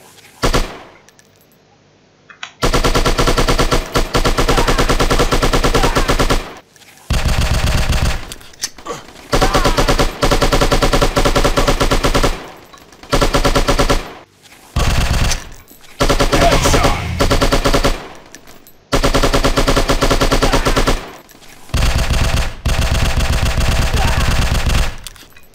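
Loud bursts of machine gun fire in the Striker shooting game, long sustained volleys broken by short pauses, with brief voice lines between bursts.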